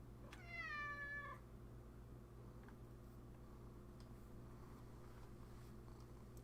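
A single clear cat meow near the start, close and distinct, then quiet room tone with faint ticking and a low steady hum.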